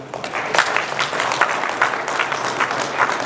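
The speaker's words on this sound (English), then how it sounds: "Give them a round of applause" Audience applause at a large annual convention, a full and fairly loud patter of many hands, with some louder claps showing through, sustained evenly for a few seconds.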